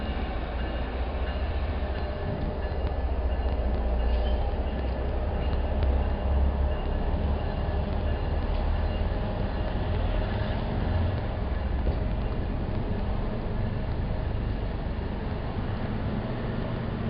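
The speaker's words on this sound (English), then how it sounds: "There goes the train." A train passes near an airport rental car garage, a continuous, loud low rumble and roar that holds steady throughout with no talking.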